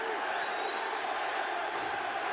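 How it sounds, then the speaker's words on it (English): An arena crowd at a Bellator MMA title fight between Michael Chandler and Eddie Alvarez roars and cheers in a dense, steady wash of noise that holds at an even level throughout, with no separate claps standing out. "They're just applauding the guts we're seeing here."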